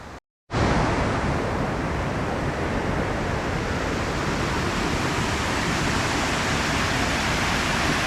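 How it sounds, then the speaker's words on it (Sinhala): A waterfall swollen with heavy flow roars in a steady, dense, close rush after a brief dropout at the start, continuous and unbroken throughout. "අද දියැල්ලේ වතුර හොඳට වැඩි."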